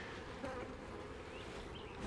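A dense, continuous buzz of many honey bees in a hive hums steadily and close by, with individual wings occasionally rising above the drone.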